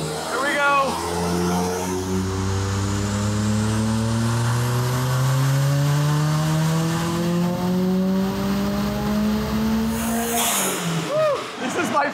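Turbocharged Mitsubishi Eclipse GSX engine with 240,000 miles wound up on a dyno under boost, its loud drone climbing steadily in pitch for about ten seconds before cutting off into a sharp hiss, with people talking around it.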